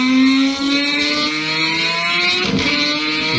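A 3,051-horsepower street-legal-looking car revving hard, a loud rising engine wail with sharp harmonic sweeps, dipping briefly and then climbing again in pitch near the end.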